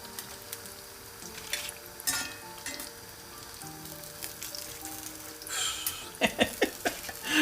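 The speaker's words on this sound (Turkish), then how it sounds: "Bu sesi duyuyorsanız doğru yoldasınız. Doğru kızarttınız demektir." Oil sizzles and crackles steadily as oyster mushrooms fry in a pan, with a few louder bursts of spattering and stirring clatter toward the end.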